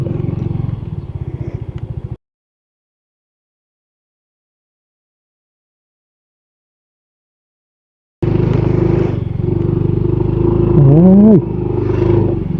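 Motorcycle crossing a hanging bridge linking Quezon province and Batangas: a close engine drone with clatter from the deck, cut by a silent gap, then resuming louder with a rising rev.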